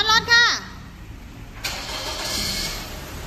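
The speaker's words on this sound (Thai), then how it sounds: "สตาร์ทรถค่ะ" A Suzuki Ciaz car engine starting. A voice speaks briefly first, then the engine catches and settles into a steady idle.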